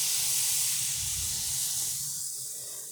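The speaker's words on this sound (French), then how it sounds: "j'ai mon beurre qui fond là." Butter melting in a pan: a steady, soft, bright hiss of sizzling that holds evenly and then fades slightly, with no voices.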